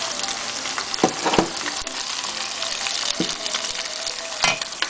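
Shrimp and squid hit a hot pan while pancit palabok cooks, giving a steady close sizzle and frying hiss with a few sharp clatters and stirring knocks.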